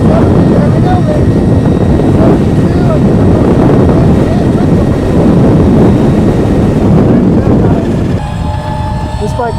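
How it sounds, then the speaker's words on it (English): An Altis Sigma electric motorbike riding fast, heard as a steady loud roar of wind and motion noise throughout, easing slightly near the end, with a voice partly buried in the rush. "Man, this thing is so fast."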